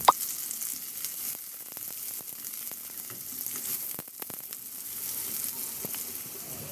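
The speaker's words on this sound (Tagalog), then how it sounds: "Magpainit muna ako ng mantika sa kawali at igisa ko na rin yung bawang at luya" Garlic, ginger and onion sauté in hot oil in a pan, giving a steady close sizzle and crackle with occasional scraping stirs and brief clatters of the utensil.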